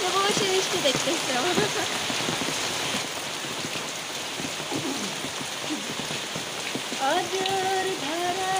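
Steady rain pours on a rural morning with a dense, continuous hiss of drops on surfaces. Faint bird calls come through briefly near the end.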